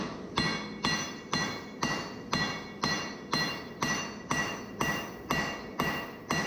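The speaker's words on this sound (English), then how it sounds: "I just go to my lightest hammer that I have, which is a 1 kilo hammer." A 1 kilo hammer strikes hot steel for an initial Damascus forge weld, about a dozen sharp ringing blows in an even, steady rhythm, close and clear with no talk.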